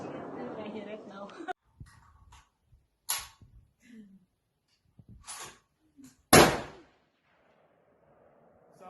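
Barrett rifle shots at a firing range, a few sharp loud cracks separated by silence, with speech at the start and between shots.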